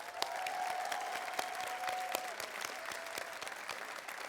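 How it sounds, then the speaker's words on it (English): An audience at a graduation investiture celebration gives a round of applause, moderately loud and even, with individual claps standing out and a faint steady tone running beneath for the first half. "please join me in giving them a big round of applause."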